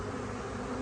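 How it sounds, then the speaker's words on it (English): Honeybees fan their wings in a hive, giving a continuous close, even buzzing drone with no pauses. "all the bees flapping their wings back and forth."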